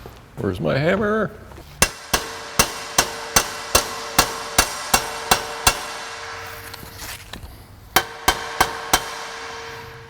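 Repeated hammer blows strike a turbo cold side intercooler pipe during fabrication, about a dozen sharp metallic hits in a steady rhythm, a short pause, then a few more, after a brief spoken line.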